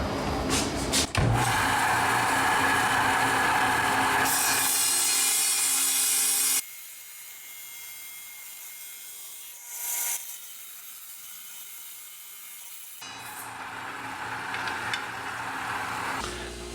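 A small rock is cut flat on top and bottom for a stone pendant, giving two long, loud grinding bursts separated by a quiet stretch with a brief faint noise.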